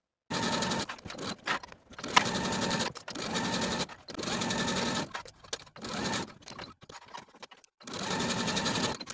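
A sewing machine sews the seams of pajama shorts in repeated runs of about a second or more, separated by short pauses, steady and close but fairly quiet, with no voices.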